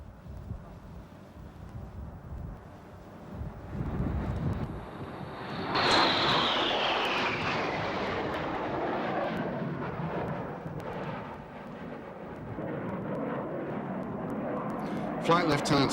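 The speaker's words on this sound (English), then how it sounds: "The RAF's fast jet advanced trainer, the Hawk, is a favourite for its manoeuvrability in the air" An RAF Hawk fast jet advanced trainer flies overhead at an air fair, a roaring jet whoosh that rises sharply, with a falling whine as it passes, then a long rumbling fade mixed with wind on the microphone.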